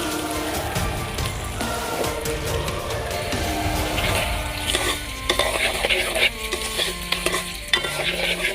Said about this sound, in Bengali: এদিকে ঘি গরম হয়ে গেছে, দিয়ে দিচ্ছি কয়েকটা লাচি বেগুন ছাড়া।